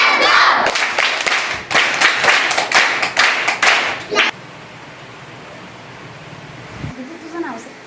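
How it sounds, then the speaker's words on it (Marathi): Schoolchildren at a Zilla Parishad primary school quiz in Umbarde burst into clapping for a classmate, a lively, uneven round of applause lasting about four seconds before dying off into a quiet room. "तिच्यासाठी सगळ्यांनी टाळ्या वाजवायच्या आहेत"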